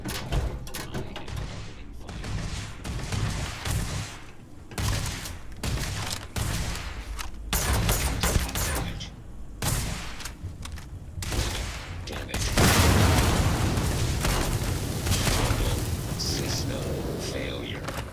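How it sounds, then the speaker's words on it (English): Gunfire and explosions in Starfield. Dense bursts of shots and blasts repeat throughout, and a louder, sustained roar takes over near the end, with voices talking over the combat. "I am opening fire."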